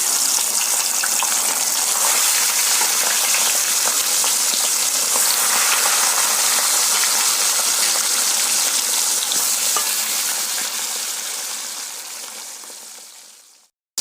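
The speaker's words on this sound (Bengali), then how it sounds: "এখানে আমাদের তেল গরম হয়ে এসেছে। তো এবার একটা একটা করে পার্শে মাছ দিয়ে দেবো তেলে।" Parshe fish frying in hot oil, a loud, dense, continuous sizzle close up that slowly fades away toward the end.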